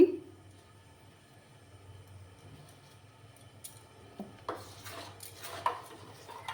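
Utensil scraping and clinking in a pan as mustard oil and a little sugar are stirred together, quiet at first, then louder with several sharp metallic taps and scrapes toward the end.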